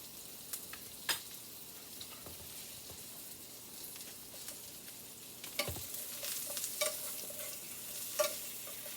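Onions frying in a pan with soft steady sizzling, punctuated by scattered scrapes and clacks of stirring, quiet and close with no voices.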